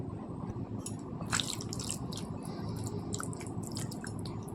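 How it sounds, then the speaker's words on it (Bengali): A hand kneads and squeezes a wet marinade mixed with green chili paste, giving soft, continuous squelching and dripping sounds close by, with no talking. "আমি এবারে হাত দিয়ে এটা ভালো করে মাখিয়ে নেব।"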